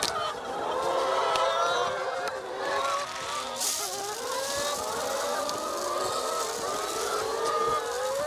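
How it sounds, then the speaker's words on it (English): Laying hens in their winter house cluck and chatter while pecking at feed, a busy, steady flock murmur with scattered higher calls heard close by, no talking. "the chickens will peck away at that"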